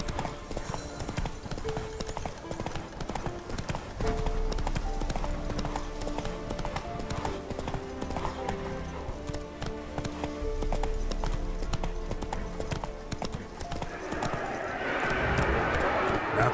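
Hooves of Roach, a horse galloping in The Witcher 3: Wild Hunt, clip-clop steadily over layered orchestral game music, with a brief whinny and someone talking intermittently over the ride.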